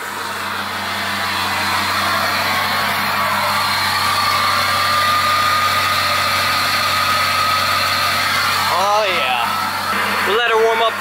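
A vehicle engine idles steadily and somewhat roughly up close while warming up, a continuous low rumble with vibration, and a voice briefly speaks over it near the end.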